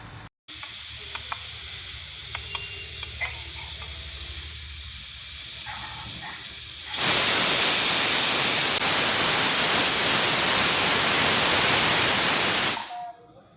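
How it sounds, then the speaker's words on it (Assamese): A pressure cooker holding broiler chicken simmered with mixed vegetables and bamboo shoot releases steam in a loud, steady broadband hiss that lasts about six seconds and then cuts off. Quieter kitchen background comes before it. "ঢাকোন লগাই চিটি মাৰিবলৈ দিম"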